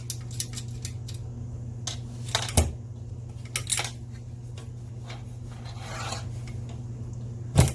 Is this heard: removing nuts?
yes